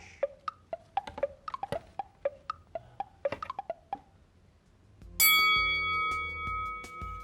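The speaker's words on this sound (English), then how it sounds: "Ding goes the bell." A small bell dings in a quick irregular series of bright, sharp strikes, then a louder sustained ringing tone swells and slowly fades at the end.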